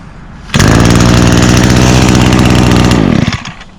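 Stihl i30 recoil starter pull on a handheld yard tool engine, which catches at once and runs as a loud, close, steady buzzing engine for about two and a half seconds before cutting off, with no talk.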